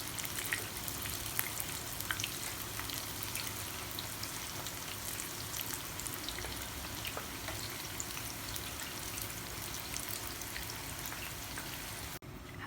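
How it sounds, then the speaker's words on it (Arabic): Eggplant slices fry in oil in a pan, a dense, steady sizzle that holds at an even level close by throughout with no voices, cutting off abruptly at the end. "بس يتحمر اول وش بقلبهم على الوش الثاني"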